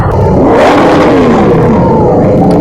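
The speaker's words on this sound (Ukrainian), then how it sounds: "Мотоциклів дуже багатько" A large column of motorcycles rides past in two organized rows at a season-opening ride in Odesa, engines roaring and whirring loudly and continuously at close range, with rising and falling revs overlapping.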